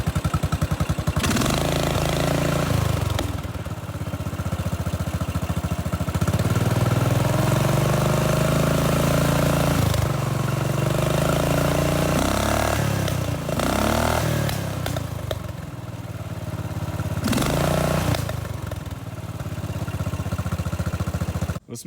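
A modified off-road lawnmower's small engine runs steadily at idle, its tone rising and falling as the throttle is bumped up several times, close and loud with some rattling.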